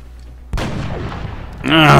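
A single loud gunshot cracks in the XCOM strategy game, a sharp close blast that decays into a rumbling tail before a voice-like tone rises at the end.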